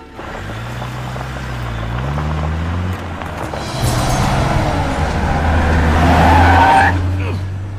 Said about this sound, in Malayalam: നീ വണ്ടി എടുക്കടാ പാപ്പ